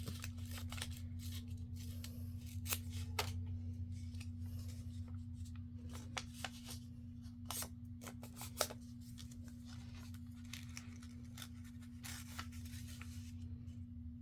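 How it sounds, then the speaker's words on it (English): Paper being torn and handled for a handmade envelope, with scattered crisp rips and rustles over a steady low electrical hum, close to the microphone and without talk. "I think I want to tear this a little bit."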